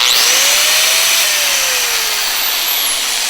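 A small Milwaukee power tool runs loud and close, a steady high-pitched whine with a slight drop in pitch as it cuts, and no talk.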